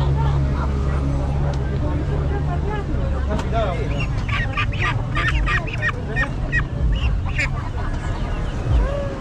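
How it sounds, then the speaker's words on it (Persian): Local chickens cluck and squawk continuously at a busy weekly bazaar in Amlash, Gilan, Iran, up close among market crowd noise and nearby talk. "مرغ محلی هم میاد."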